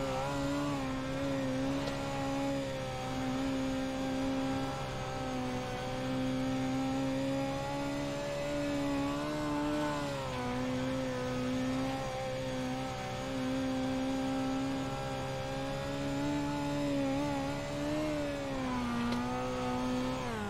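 Onboard dirt midget race car lapping the Volusia Speedway oval, engine droning loud and continuous with rising and falling pitch through the turns, no talk.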